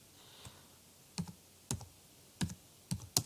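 Keystrokes on a computer keyboard during a Jenkins install on CentOS 6.5, a handful of sharp separate clicks spaced through a quiet room with no talking.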